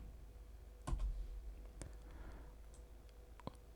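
Sparse, quiet keystrokes tap on a computer keyboard, a few separate clicks spread out over a low background hum, with no voice.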